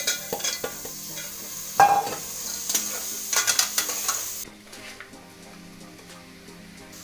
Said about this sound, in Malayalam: ഇനി അതിലേക്ക് അരിഞ്ഞു വെച്ച കപ്പങ്ങ ഇട്ട് കൊടുക്കാം